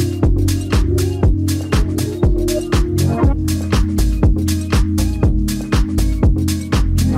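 House beat looping at full volume: a punchy four-on-the-floor kick drives steady pulses, with a deep sustained bassline and synth layers over crisp hi-hats, dense and continuous with no voices.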